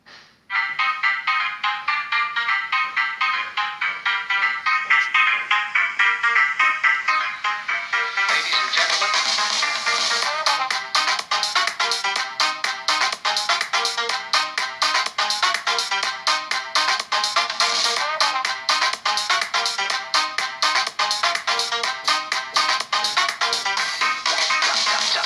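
A ringtone melody plays through the single mono speaker of a Redmi Note 9 Pro phone, bright and continuous for the whole stretch, growing fuller partway through, with no talking.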